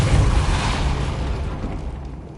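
The Depulso force spell is cast in the Hogwarts Legacy video game, a loud booming burst that fades into a rumbling tail over about two seconds.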